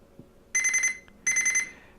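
A kitchen timer set for pizza dough goes off with loud, rapid electronic beeping in two distinct bursts separated by a short pause, then starts a third at the very end.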